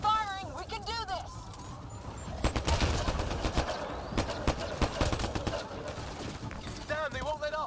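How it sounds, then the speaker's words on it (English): Rapid bursts of gunfire in the sci-fi shooter Mass Effect Andromeda, loud dense volleys of shots crowding the middle of the clip, with strange warbling creature cries at the start and end and a voice calling out over the fighting. "Just keep firing, we can do this!"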